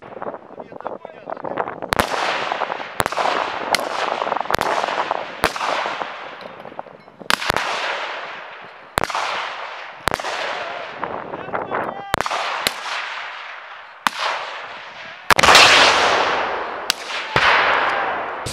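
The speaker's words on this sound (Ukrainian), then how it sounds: "Під час навчань застосовували стрілецьку зброю, гранатомети та ручні гранати" Small arms, grenade launchers and hand grenades going off at territorial defence training in Ternopil region: a long run of sharp, loud outdoor cracks and bangs at uneven intervals, some close and heavy, each trailing into a rumbling echo.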